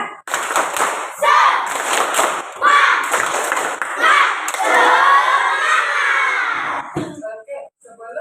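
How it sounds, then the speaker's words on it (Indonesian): Schoolchildren in a classroom clap together in a rhythmic spirit-clap pattern while shouting and chanting along, loud, close and lively throughout. "Ya, tepuk semangat."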